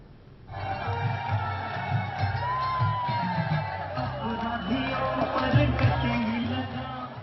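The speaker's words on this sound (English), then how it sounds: "The huge crowds at Mayawati's official campaign launch" Cheering crowds roar at Mayawati's official election campaign launch rally in Meerut, Uttar Pradesh, a dense continuous mass of shouts and whoops that swells after a quiet start and keeps going.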